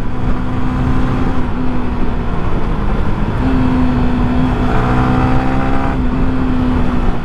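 A 2023 Yamaha Sniper motorcycle rides through traffic, its engine a close, steady drone whose pitch shifts gently up and down under a constant wind and road roar, with no talk.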